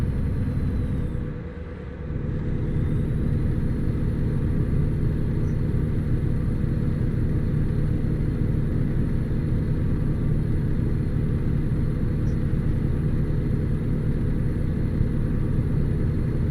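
Steady low rumble of a truck engine in the driving game 18 Wheels, a continuous droning hum with a brief dip near the start, no speech.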